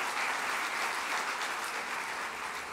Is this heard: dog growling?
no